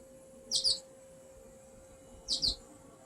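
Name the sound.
birds chirping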